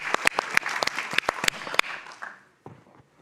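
Scattered applause at a climate adaptation forum, a small group's distinct individual claps close by, thinning out and stopping after about two seconds, then a couple of faint stray claps.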